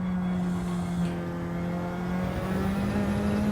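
Gr 4 race cars closely racing at Spa in Gran Turismo 7, a continuous loud engine note with a steady low harmonic that climbs slightly near the end, dense and unbroken, without talk.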